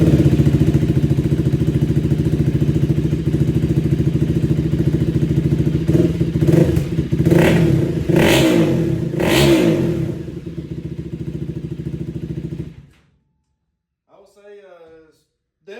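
2024 KTM Duke 390 gen 3 fitted with an IXIL RC exhaust, idling loud and close, then a few sharp blips of the throttle, before the engine cuts off into near silence.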